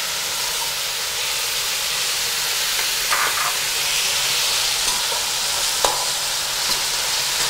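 Onions and tomatoes fry in a pan with a steady, soft sizzle and hiss, a few brief clinks of stirring breaking through the constant background.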